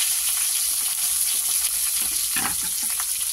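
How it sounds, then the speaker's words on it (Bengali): Green chilies frying in hot oil with tempered five-spice and a dried red chili, a steady close sizzle with crackles and brief stirring scrapes, no voices. "5 ফোড়ন আর একটা শুকনো লঙ্কা ফাটিয়ে, ফোড়নটা আসুক ভালো করে গন্ধ বেরিয়ে যায়, তারপরে ওর মধ্যে দিয়ে দেবো এই কাঁচা লঙ্কা"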